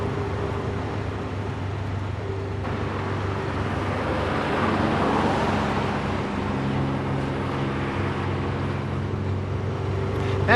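A 1930 Austin car cruising at about 45 mph through a sweeping left-hand bend, with a steady low engine drone and road rumble that holds even and close throughout.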